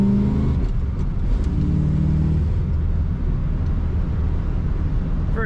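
A 1971 Chevrolet Corvette coupe with a manual transmission rumbles steadily as it is driven, a loud, continuous low engine drone that rises slightly near the end, with no talking.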